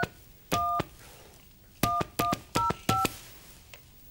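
Telephone keypad tones from a number being dialed on a phone handset, five distinct dual-tone beeps in an uneven sequence, fairly loud and clear against a quiet room background, with no talking.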